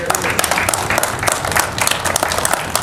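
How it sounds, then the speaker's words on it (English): An audience breaks into loud, sustained applause, dense clapping from many hands with a crowd-like wash throughout and no pause, close and full. "I think you all deserve a round of applause."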